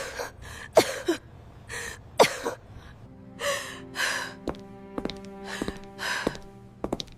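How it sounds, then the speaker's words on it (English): An unwell mother coughs at home in a quiet house, several short harsh bursts close by, followed by breathy sighs and faint background tones. "Mom started coughing."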